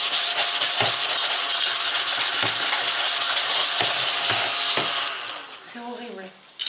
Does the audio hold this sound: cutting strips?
yes